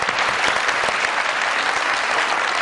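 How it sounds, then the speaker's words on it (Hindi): Studio audience at a comedy talk show applauding to welcome a guest, a dense, even burst of many hands clapping, loud and sustained for the full few seconds. "बहुत सारी तालियों में वेलकम कीजिएगा"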